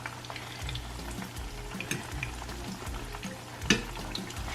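Hot oil sizzles and crackles steadily as plantains fry in a pan, with occasional sharper pops and a low background hum; no talking.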